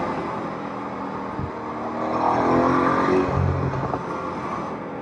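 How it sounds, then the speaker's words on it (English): A BMW M5 on its standard exhaust revs in sport mode, a loud engine note that swells and burbles, then eases back, with no talk over it. "just the standard exhaust in sport mode"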